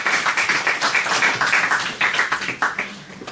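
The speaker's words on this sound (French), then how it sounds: "On applaudit." Conference audience applauding a speaker's introduction, a steady wash of many hands clapping close and fairly loud throughout, with no talk over it.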